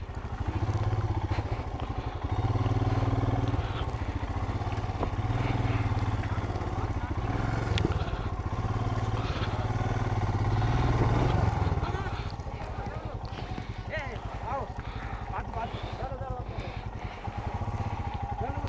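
A motorcycle rides along a mountain road in Ladakh, its engine a steady close rumble that carries through the first twelve seconds and then gives way to a rougher, uneven drone, with people calling out over it.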